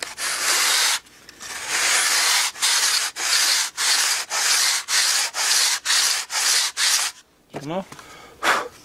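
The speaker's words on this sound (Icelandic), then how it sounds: "Nú ætla ég að pússa þetta aftur." Balsa wood sanded by hand in long, steady strokes, a loud close rasping rhythm of about a dozen passes broken by brief pauses, with a short scrape or handling noise near the end.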